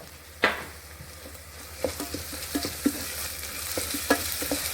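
Ginger garlic paste fries in a pot with a steady sizzle under repeated stirring, the spoon scraping and tapping the pot in irregular strokes, close and with no talk.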